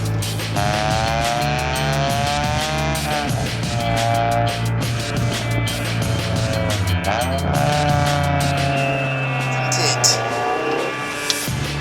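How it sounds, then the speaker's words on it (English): A 1996 Nissan Lucino B14 coupe, Autech version, revs hard with repeated throttle blips on downshifts. The engine note rises and falls sharply and keeps going throughout, loud and close. "you can't help but want to do unnecessary blipping on the throttle on the downshifts and revving a lot to try and take off"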